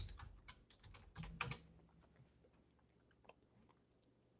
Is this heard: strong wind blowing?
no